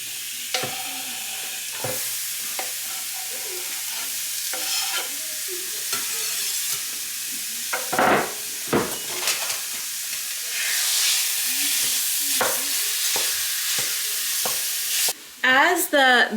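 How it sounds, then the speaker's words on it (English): Garlic, onions and ground beef fry in a cast iron skillet with a loud, steady sizzle, broken by repeated scraping stirs and sharp utensil knocks against the pan. "My cast iron skillet is just warming up, so once that's warm, I'll add my garlic, onions, and ground beef."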